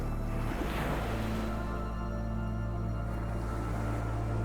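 Ocean waves wash steadily in a continuous, full-bodied surf roar with a low rumble and broad hiss, holding constant throughout with no voices present.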